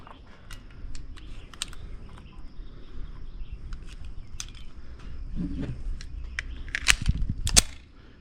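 Pistol shots at an outdoor shooting range with a Meprolight Bullseye sight, fired at 50 yards: a scatter of sharp cracks, mostly distant and of varying loudness, over a soft background hum.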